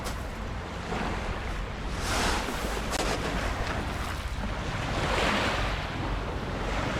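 Sea waves breaking on a shore, with loud, continuous surf that swells in broad surges and is mixed with gusty wind buffeting the microphone; no voices are present.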